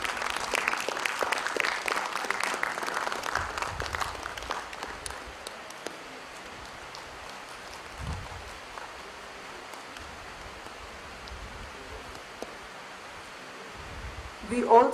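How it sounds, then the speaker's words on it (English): Audience applause at a career counselling event, moderate clapping that starts fairly strong and fades into a soft, noisy hall ambience with faint rustling. "A huge round of applause,"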